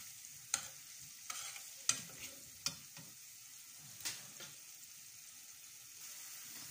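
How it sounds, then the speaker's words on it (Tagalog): Banana and sugar are stirred and mashed in a pan, with a few sharp spoon taps and scrapes over a faint low sizzle, quiet and close, with no talking. "habang ano, hinahalo po natin, imamash po natin siya"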